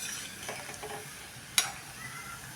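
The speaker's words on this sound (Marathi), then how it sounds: "अशा सतत हलवून आपण ह्या तळून काढूया." Shankarpali deep-frying in hot oil while being stirred continuously, a soft steady sizzle with light scraping stir strokes and one sharp clink near the middle, quiet overall.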